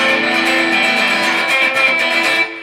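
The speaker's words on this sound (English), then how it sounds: "Adjacent strings at first start to sound like this," Guitar strings ring together in a sustained, slightly messy wash of overlapping tones, with faint rhythmic picking, no voices.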